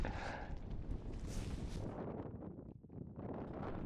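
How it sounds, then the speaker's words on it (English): Keen wind blowing across a Scottish mountain summit in cold summer cloud, a steady broadband rush buffeting the microphone throughout, with brief gusty surges and a short lull near the end. "there was quite a keen wind blowing"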